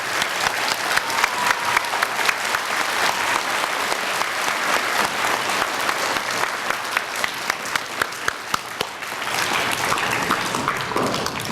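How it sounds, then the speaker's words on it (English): An elementary school audience at a Veterans Day assembly at Woodland Elementary applauds the veterans, with dense, sustained clapping that fills the room steadily for several seconds before easing slightly near the end. "Can we give our veterans a round of applause one more time?"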